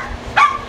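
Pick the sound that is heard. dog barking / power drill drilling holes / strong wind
dog barking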